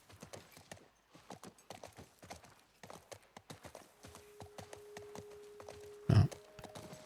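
Horse hooves clip-clop in a steady trotting rhythm in The Last of Us Part 1 on PS5, moderately close. A low tone hums beneath, and a brief loud thump comes near the end.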